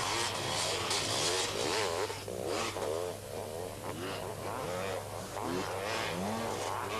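Enduro motorcycle, a 500 CR, restarting and riding off through deep beach sand at a 1994 race, a raspy two-stroke engine revving and bouncing over continuous crowd and engine noise, with a commentator talking over it.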